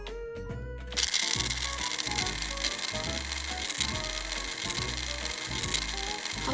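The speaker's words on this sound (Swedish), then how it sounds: "Nu är det dags att mixa." A toy mixer whirring as it churns pretend ice cream, a steady buzzing motor hum with a rhythmic rattling pulse that starts abruptly after a second of softer clicks and continues close and constant.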